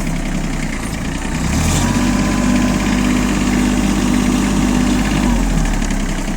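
ISEKI SIAL TF223F Japanese compact tractor engine pulling in third gear, a loud, steady close-up drone with a low throbbing hum that rises slightly in pitch after the first second and holds evenly to the end.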